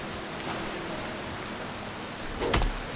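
Steady rain falling in the survival video game Len's Island, a dense even hiss throughout with a few brighter splashy bursts near the end.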